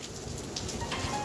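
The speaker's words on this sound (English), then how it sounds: "Now it's hailing." Hail patters steadily on a surface outdoors at the end of a walk along Route 66, a dense, fairly quiet crackle with a few louder hits.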